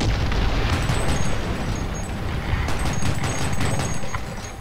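Artillery shells burst in a tank video game during a match with German tanks, producing a dense, continuous rumble of overlapping booms and crackling blasts that stays loud throughout without pause.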